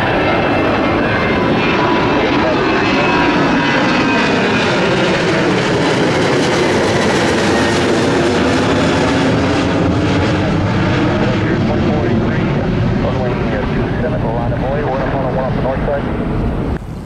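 A jet airliner roars through a loud takeoff at Miami airport, its engine noise swelling and sweeping in pitch as it passes, heavy and continuous across the whole stretch.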